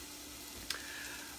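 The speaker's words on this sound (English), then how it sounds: "So we're just gonna keep letting that saute a little more back to the stove" Vegetables sauté in a sauce pot on the stove, giving a soft, continuous sizzle with one brief clink partway through and no talking over it.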